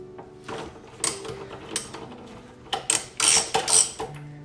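A ratchet with a 12 mm socket loosens a bolt on the front brake of a Yamaha FJR 1300 motorcycle, giving a series of close, uneven clicking and ratcheting bursts with short pauses between them.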